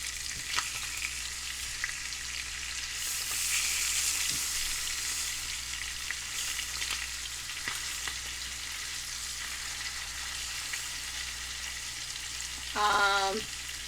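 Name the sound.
chicken frying in a pan, being flipped over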